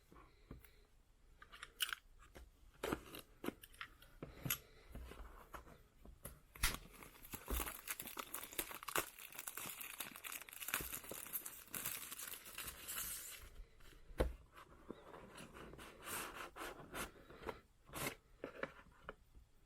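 Packaging for a Hobbywing 1080 ESC is opened by hand, with close, quiet crinkling, rustling and tearing of plastic and paper in irregular bursts throughout, no talk.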